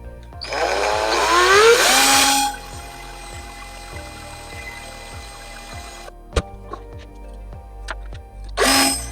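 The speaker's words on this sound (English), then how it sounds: "Let's try to drill." A power drill bites into a 1938 Emerson fan in a rising whine lasting about two seconds. A faint clock-like ticking follows, then a sharp knock, and a second short burst of drilling comes at the end.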